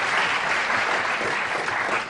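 A television talk-show studio audience applauds, a full, continuous burst of many hands clapping close and loud, with no voices over it.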